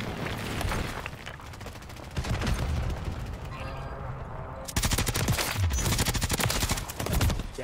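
Rapid automatic gunfire from Call of Duty Warzone, Rebirth map, dense bursts of shots in quick succession, loud and continuous, with a brief lull before the firing resumes harder.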